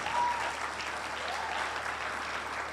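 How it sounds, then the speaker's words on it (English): Audience members at a career workshop clap together in a steady, moderate round of applause from a modest crowd, sustained without any voices over it. "Please, can we put our hands together and celebrate?"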